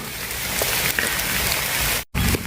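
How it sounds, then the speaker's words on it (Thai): Steady rain falls with a dense, loud hiss, close by and continuous, with a brief break near the end. "ฝนตกมาแล้ว"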